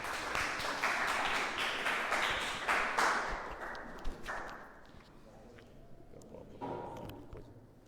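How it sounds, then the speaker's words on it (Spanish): An audience at a lecture on teaching and science applauds to welcome the speaker. Dense, fairly close clapping runs for about four seconds, then thins to a few scattered claps and quiet room noise. "nosotros de costumbre recibimos con un aplauso al conferencista"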